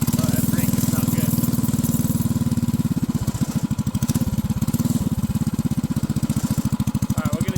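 Ghost racing engine fitted to a toddler-sized racecar bed, running loud and close with a steady buzzing drone that breaks into a rapid pulsing putter partway through; no clear talk over it.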